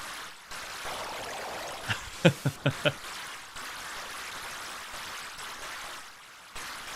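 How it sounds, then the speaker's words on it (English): Water effects in the retro game Strange Odyssey: a soft continuous stream-like trickle running throughout, with a short cluster of four or five brighter sharp blips in the middle, no voices. "This might be the best sound effects of water we've seen in any video game."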